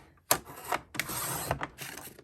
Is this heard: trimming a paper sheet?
yes